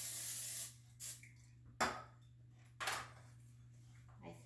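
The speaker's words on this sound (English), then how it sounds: "simple spray, cooking spray in your dish" A short spray of cooking spray into a baking dish hisses at the start, followed by a few separate bursts of aerosol spraying against a quiet background hum.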